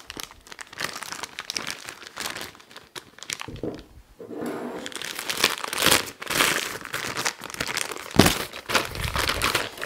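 Light and dark cream paste is scooped into a plastic piping bag fitted with a 124K tip for piping ranunculus flowers, giving close, busy crinkling and rustling of plastic with soft scraping thuds, no talk.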